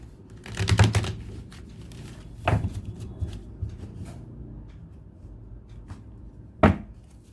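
Tarot cards drawn one at a time from a deck for a romance reading, giving a few soft, brief snaps and slides close by, spread out with quiet pauses between them and no talking.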